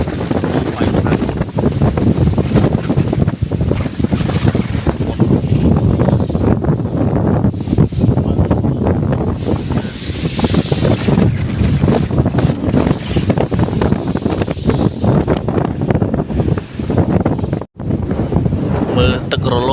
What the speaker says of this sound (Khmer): មើលទឹករលកបងប្អូនមកខ្យល់ខ្លាំង